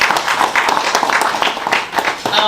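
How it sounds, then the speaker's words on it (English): An event crowd at a business awards ball claps for a winning company, a dense, loud burst of many hands clapping together. "Please clap for Prodigy."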